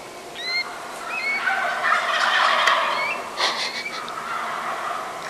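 Wild turkey toms gobble in spring woods, a loud rattling chorus of overlapping gobbles rising and falling, fairly close, with a few higher chirping calls mixed in.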